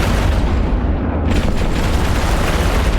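Rockets firing in the space game EVE Online, a loud continuous roar of explosive booms and rumble filling the whole clip without any pause.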